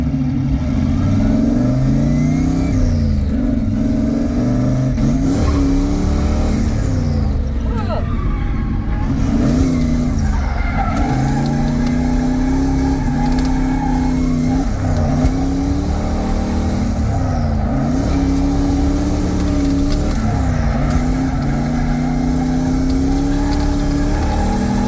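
Drift car making 400 horsepower and 500 lb-ft of torque, running poorly without boost on a race track at a drift event, revving hard in repeated rising and falling waves, loud and close throughout.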